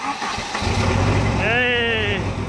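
A Volvo car engine, started again after sitting for six years, cranks over a low rumble, then a rising whine sweeps up as the motor catches and runs, loud and close with a voice over it.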